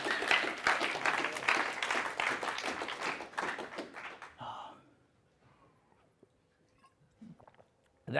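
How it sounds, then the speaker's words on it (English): Comedy club crowd applauding during a stand-up set, several seconds of scattered clapping that fades into near silence, with a few faint sounds afterward. "All right, big round of applause for the sexy lady."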